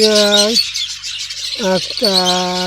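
Budgies and cockatiels squawking at a parrot farm in Howrah, loud, close harsh calls in two bursts with a brief lull between them, while a voice talks faintly underneath.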